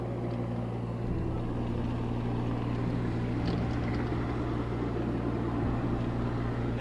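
A motorboat engine runs as a steady, loud, low drone with a dense rumbling hum, close by and continuous throughout, with no talk over it.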